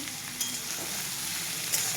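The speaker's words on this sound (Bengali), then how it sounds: "এবার ভাজা ভাজা হোক।" Food sizzling in a hot pan, a constant bright crackle with a couple of faint clinks, fairly quiet and close, no voices.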